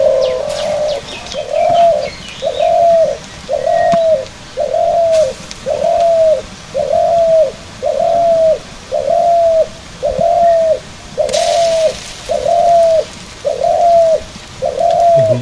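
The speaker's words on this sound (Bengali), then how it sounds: "গুগু এই সামনে ডাকতেছে।" A dove coos close by in a village, repeating a steady two-part call about once a second, fourteen or so calls in a row, with faint rustling and background noise between them and no talking.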